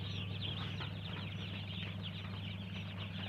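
Local duck chicks at a poultry farm in Kharupetia, a dense, continuous mass of faint high chirping from many birds at once, steady throughout with no talking.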